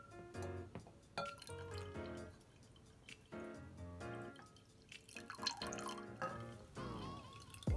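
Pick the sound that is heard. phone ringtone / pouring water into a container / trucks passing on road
pouring water into a container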